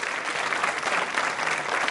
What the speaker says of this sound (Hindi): एक बार इसके लिए आप अपने लिए तालियां जोरों से बजाइए